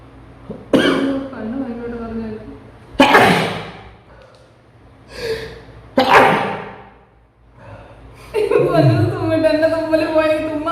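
A person sneezes forcefully several times during a sneezing challenge, loud close bursts separated by pauses, with chatter and laughter following the last sneeze.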